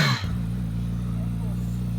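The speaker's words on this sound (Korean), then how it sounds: "4기통의 이 배기." A Suzuki GSX-S1000GX four-cylinder motorcycle idles with a steady, smooth low exhaust drone, close and even after a brief start.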